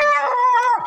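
Hound dog baying at raccoons treed up a tree outdoors, one loud, drawn-out howling bay with a wavering pitch that trails off at the end, heard close and alone.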